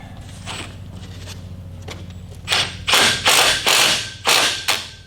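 A Tek screw is driven into the steel pipe of a high tunnel frame through a pre-drilled hole to hold a string, heard as a quick run of six loud, close, rattling bursts after a quieter start.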